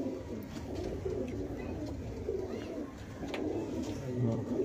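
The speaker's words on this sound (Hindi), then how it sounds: "बहुत शानदार कबूतरी" A pigeon coos in soft, repeated low throaty phrases close by, with faint background rustle and no speech.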